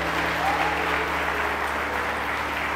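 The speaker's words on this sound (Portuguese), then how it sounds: "Você pode dar um aplauso ao Senhor e um brado de júbilo?" A church congregation applauds at an evening conference service, dense sustained clapping that fills the room evenly for the whole stretch.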